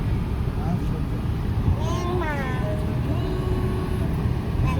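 A car's engine rumbles low and steady as it pulls into a petrol pump, close and continuous, with a person talking over it.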